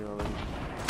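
Gunfire from a Fortnite Battle Royale duos match, a brief dense burst of shots ending in a sharper crack.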